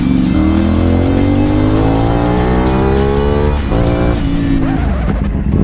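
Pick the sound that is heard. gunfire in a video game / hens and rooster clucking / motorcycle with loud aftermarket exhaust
motorcycle with loud aftermarket exhaust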